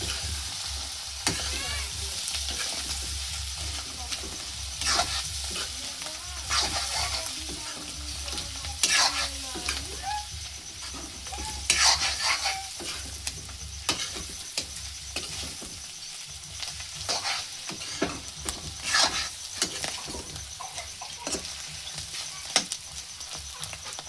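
Ginger-garlic paste sizzles and fries in a pan while a utensil stirs and scrapes through it, a steady frying hiss with repeated clicks and scrapes over about twenty-four seconds, close and moderately loud, with no talking.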